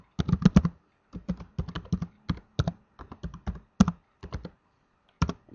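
Someone types an email address on a computer keyboard: quick, close, crisp key clicks in irregular clusters with short pauses between, alone and fairly quiet.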